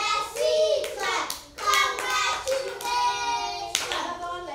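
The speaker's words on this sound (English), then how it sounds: "Clap for her." Children in a classroom clap together for a classmate in quick rhythmic bursts, mixed with a chanted, sing-song group voice.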